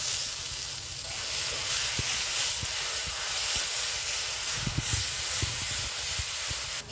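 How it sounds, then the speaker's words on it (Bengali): Garlic paste frying in oil with dried red chillies, cumin, cardamom and cinnamon gives a steady broad hiss throughout, moderately quiet, with scattered small pops and crackles scattered across it. "রসুনটাকে এবার একটু ভালো করে ভেজে নেব"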